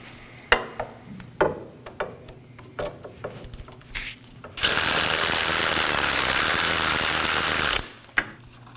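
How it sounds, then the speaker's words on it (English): A 14mm socket on a ratchet with an extension works on the wheel bearing and hub assembly bolts of a 2013-2019 Nissan Sentra, giving short clicking bursts and then a long, loud, steady ratcheting run up close before a final click. "I'm going to use a 14mm on a ratchet with an extension to remove my 4 14mm wheel bearing and hub assembly bolts."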